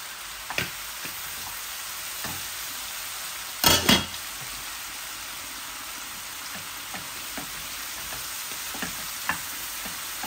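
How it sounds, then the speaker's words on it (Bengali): Eggs and potatoes fry with spices in a pan, a constant close sizzle punctuated by a few sharp clinks and scrapes of stirring, one louder clatter partway through, no voices. "এই কাঁচা গন্ধটা মরে যাওয়ার জন্য আমি একটু ভাজতেছি ডিমগুলাকে"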